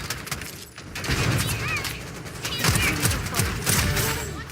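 Enemy gunfire in the video game Wuthering Waves, sustained rapid shots mixed with crashes and game effects, loud and dense throughout, with brief voiced game lines in the mix.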